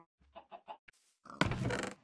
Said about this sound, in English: I caught a chicken.